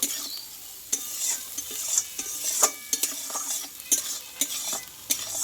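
Masala fries and is stirred in leftover tilapia-frying oil in a pan, a close steady sizzle punctuated by repeated sharp scrapes and clinks of the spoon against the metal.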